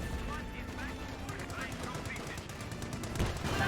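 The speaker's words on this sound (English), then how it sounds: "Royal Engineers firing away." Gunfire from Royal Engineers in Company of Heroes 2 with a Bren gun nearby: rapid bursts of machine-gun and rifle fire crackle steadily over game noise, with talk over them.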